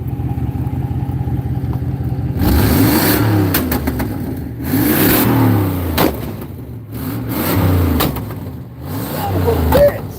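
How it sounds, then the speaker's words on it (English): A car engine with a broken muffler that has a big hole in the bottom revs hard in several loud, rough bursts, dropping back to a ragged idle between them; a voice is heard briefly alongside. "Somebody said to rev it"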